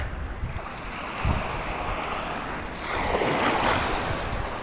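Ocean waves and wind during a boat ride, surf washing and swelling around the hull with steady wind buffeting the microphone, growing louder toward the end.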